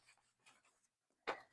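A pen scratches out a signature on journal paper in a few soft, close strokes, ending with one sharper scratching flick.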